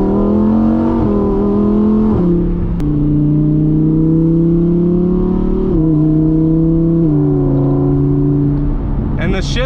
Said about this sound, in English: We just opened that rear window with this switch over here so you can hear the engine a lot better.